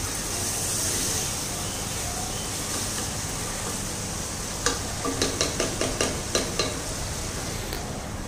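Chicken frying for a chicken salan with chana dal, a continuous sizzle that is later joined by a run of regular scraping strokes as a spoon stirs the pan. No one talks.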